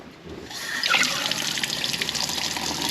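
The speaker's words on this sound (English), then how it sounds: "if I flip the water pressure breaker, if the faucet will work" A boat faucet running after the water pressure is switched on, starting with a brief sputter and then a steady, close splashing stream into a sink.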